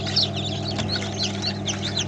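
High, thin peeping from many day-old chicks chirps continuously over a steady low mechanical hum from an incubator.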